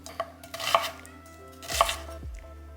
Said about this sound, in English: Next, we're just going to cut up our onion.